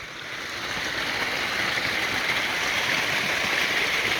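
A waterfall pours into a thermal water pond beside natural limestone, a steady broadband rushing hiss that swells in at the start and then holds constant and fairly close, with no voices.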